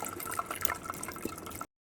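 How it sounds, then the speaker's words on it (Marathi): Warm water is poured over crab curry masala and stirred with a spoon to strain out the extract, giving a soft, brief trickle and splash of liquid, close and quiet. "त्यात थोडं थोडं गरम पाणी घालून चमच्यानं हलवून रस काढायचा"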